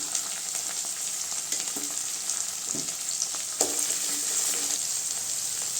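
Tomatoes sautéing in a pan for a South Indian paruppu keerai koottu: a steady close sizzle with occasional scraping stir strokes, no talk.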